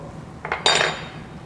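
Cooked orange, ginger and garlic are pressed through a sieve, producing a short burst of metallic scraping and clinking midway through the otherwise quiet moment.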